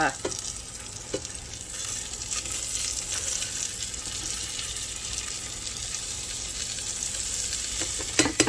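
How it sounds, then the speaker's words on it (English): Meat fries in butter in a pan with a steady, close sizzle and hiss throughout, joined by a few brief scraping clicks near the start and end. "I think I'm gonna throw some more butter in there to make sure it's"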